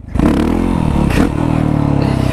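A Yamaha WR450SM supermoto motorcycle revs in first gear, its engine note loud, close and sustained throughout with a brief surge partway through.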